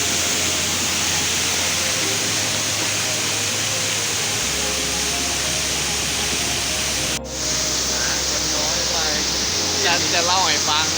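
Steady broadband rushing of a waterfall, constant and fairly loud, with a brief dip partway and faint chirpy sounds near the end, at Tad Xuang, Ban Tham, Naxaythong District, Vientiane, Laos.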